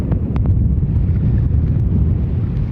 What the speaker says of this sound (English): Problem is that it's a windy day